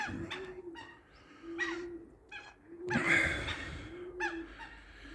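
Soft, low racing pigeon coos repeat several times at a moderate distance, mixed with brief flutters and rustles in a quiet outdoor setting at a loft.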